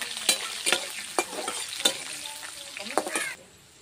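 Mustard seeds, cumin, cinnamon, onion and bay leaf fry in hot mustard oil with a steady close sizzle, punctuated by sharp pops and clinks of a spoon stirring the pan.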